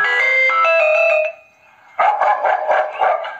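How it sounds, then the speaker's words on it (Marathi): Recorded dog barking played from a device on a farm to scare off monkeys, a run of sharp electronic-sounding barks following a tonal chime, loud and close with no talk. "कुत्र्याचा आवाज मस्त"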